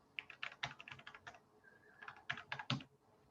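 A computer keyboard typed on in two quick bursts of rapid, crisp key clicks, close and quiet, separated by a short pause, with no voices.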